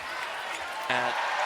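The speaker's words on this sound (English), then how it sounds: "This crowd all into KT, and another foul by Clark." Crowd in a basketball arena during a WNBA game, a steady broad roar of cheering with a play-by-play commentator talking over it.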